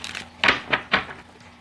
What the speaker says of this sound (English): I did a lot of pre-game shuffling.